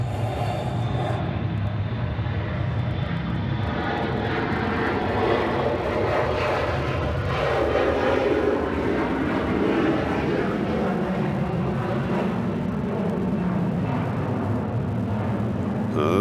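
An airliner arriving from Salt Lake City at hazy Atlanta Hartsfield-Jackson International Airport gives off a loud, steady jet roar that fills the whole stretch without a break.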